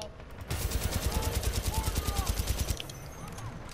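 Rapid, rhythmic automatic gunfire in Titanfall 2 rattles steadily for about two seconds before stopping, loud and close, with game effects around it.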